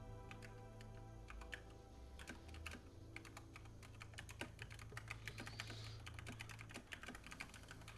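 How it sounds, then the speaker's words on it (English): Someone types steadily on a computer keyboard during a World of Warcraft Classic session, producing quick, irregular clicks at low volume with a faint hum underneath and no talking. "It's you typing."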